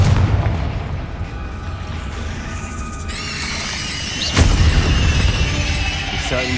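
Incendio and Confringo spells explode in the video game Hogwarts Legacy as booming blasts with crackling bursts and a piercing squeal over a rumbling battle din, while a voice shouts spell names.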